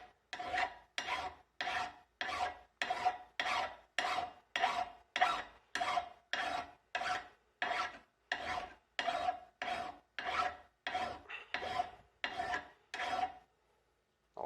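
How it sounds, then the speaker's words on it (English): A single cut file rasps across a wooden rifle stock for a Winchester Model 70 30-06 build in a steady series of about twenty even, scratchy strokes, close and fairly loud, each separated by a short pause. "now we're going to be doing the rasping with the file. I use a single cut file"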